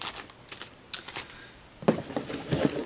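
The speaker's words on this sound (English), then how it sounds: "Resealable baggie." A resealable plastic baggie is handled up close while unboxing the Rune Wars board game, giving brief crinkly rustles and clicks in two short bursts separated by a quiet pause.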